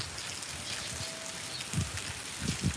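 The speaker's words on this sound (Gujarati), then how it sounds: "વરસાદ ચાલુ છે સતતભાઈ" Steady rain falls continuously in a close, even patter, with a few heavier low thumps of drops near the end.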